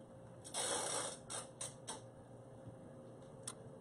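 Jewelry crimping pliers closing a crimp bead on beading wire, a few small close mechanical clicks and squeezes, quiet and sparse.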